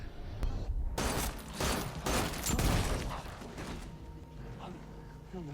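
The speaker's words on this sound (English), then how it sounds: "Why did he shoot all his own men?" Gunfire in a TV show scene, several loud bursts of shots clustered over a few seconds and then trailing off into quieter background.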